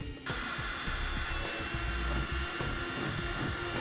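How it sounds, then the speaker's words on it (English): A power drill with a 5/16 bit bores holes into the back of a truck bumper, a steady, close, high-pitched whine with gritty low-end rumble running continuously after a brief start. "We'll use a 5/16 bit to drill out our holes in the back of the bumper."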